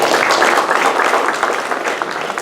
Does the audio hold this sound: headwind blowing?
no